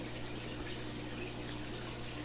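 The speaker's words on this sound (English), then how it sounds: "I push a lot of water through the filters and try and keep the water moving" Water pushed through the filters of a 55-gallon rainbowfish aquarium gives a faint, constant rushing wash over a low steady hum, with no voices.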